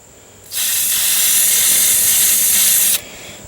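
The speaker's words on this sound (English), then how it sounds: "Okay, I'm going to use some deep creep." Deep Creep penetrating oil sprays from an aerosol can in one continuous hissing burst of about two and a half seconds, close and loud, starting and stopping abruptly.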